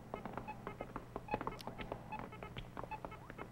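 Electronic sci-fi beeps resembling the Super Breakout arcade game chirp in quick, irregular succession. They are short, quiet bleeps and blips over a faint low hum, with no talking.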